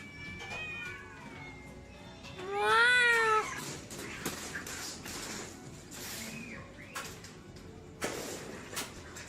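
Cats meow in an internet clip: several drawn-out, rising and falling meows, one loud caterwaul-like cry near the middle, with a few shorter mews and light household bumps around them.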